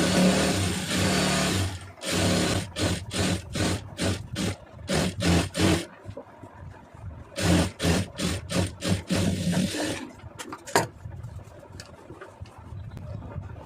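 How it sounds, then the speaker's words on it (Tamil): A sewing machine stitches a round neckline in bursts of rapid, close mechanical whirring and clatter, stopping and starting several times with short pauses, and ends in a few quieter, uneven runs. "நான் இன்னொரு தையல் போட்டு நான் உங்களுக்கு காமிக்கிறேன்"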